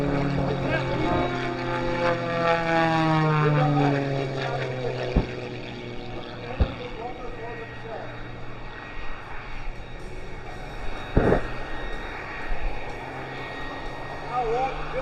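Propeller aircraft dive at the Fort Wayne Air Show 2025, a loud engine drone sweeping down in pitch as it passes, then distant engine noise under a commentator talking over loudspeakers.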